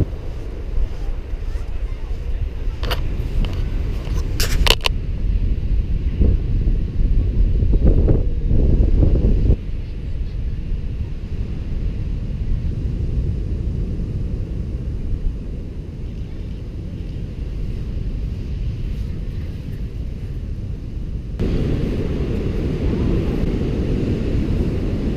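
Strong wind buffets the microphone on Reynisfjara black-sand beach in Iceland, a steady loud roar of gusts with rumbling low-end noise throughout, swelling again near the end.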